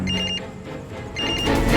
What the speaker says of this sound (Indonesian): Telepon kenapa nggak diangkat?